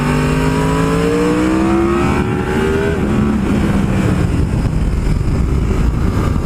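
A Yamaha R1M motorcycle accelerates up a mountain road, its engine climbing in pitch through a gear, briefly dropping on a shift, then pulling again amid loud rushing wind noise, close and powerful.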